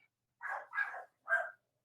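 Dogs give three short barks, quiet and somewhat distant, separated by brief silent gaps.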